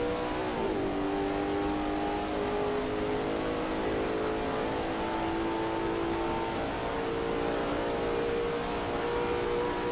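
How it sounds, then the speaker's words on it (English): A Lola T70 MkII Spyder race car engine in a video game drones continuously at high revs at Kyalami, its tone sliding as gears shift, steady and loud with no voices. "over the roar of the engine"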